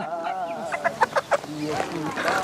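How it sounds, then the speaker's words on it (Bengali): A live chicken clucks in a few short, close bursts at an Eid market, set among people talking nearby. "সাথে একটা মুরগিও কিন্তু আছে"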